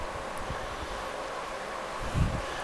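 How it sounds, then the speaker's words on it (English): Steady wind buffeting a microphone outdoors in Kusadasi, Turkey, a continuous rushing hiss with a brief louder gust near the end. "Windy."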